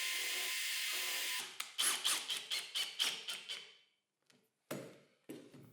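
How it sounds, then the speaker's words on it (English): A power drill bores a bolt hole in a wooden tilting router lift, with a steady high whine that breaks into a run of rhythmic pulsing bursts, then short isolated drill spurts after a brief silence, close and alone. "Now's the time to make the hole for the bolt that will hold it."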